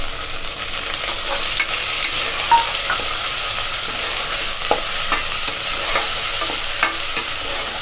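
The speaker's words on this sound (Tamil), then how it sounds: "தக்காளி நல்லா வதக்கிக்கலாம்." Tomato and ginger garlic paste sautéing in a kadai make a continuous, close frying sizzle, with repeated spatula scrapes and taps as the mixture is stirred.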